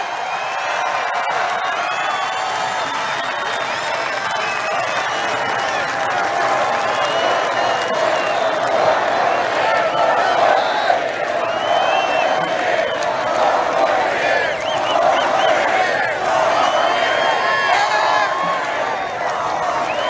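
A large crowd at a Make America Great Again political rally in Tampa, Florida cheers, claps and whoops steadily for the full stretch, a dense, continuous roar of many voices and hands with no single speaker standing out.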